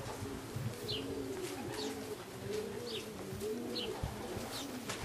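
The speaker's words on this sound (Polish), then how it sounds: "Niezmęczone te gołębie. Już są cztery gołębie." Racing pigeons returning to the loft coo in soft, rolling phrases, repeating steadily and close by, with faint higher chirps now and then.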